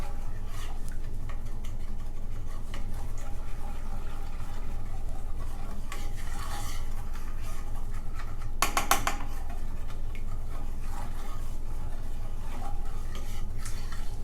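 Melted chocolate mixture for fat bombs is stirred in a pan with quick small circles, a quiet, continuous scraping and swishing, with a brief sharper clink of the utensil partway through.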